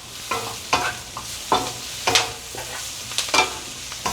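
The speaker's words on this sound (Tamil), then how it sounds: "அதுவும் கொஞ்சம் 2 மினிட்ஸ் கிட்ட இப்படி வதக்கப்பட போகிறேன்." Onions and curry leaves sauté in a pan: a steady close sizzle broken by repeated scraping strokes of a spoon stirring at an uneven rhythm.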